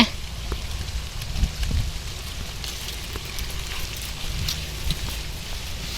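Steady light rain patters on surfaces outdoors, a soft continuous hiss with scattered drops and no voices.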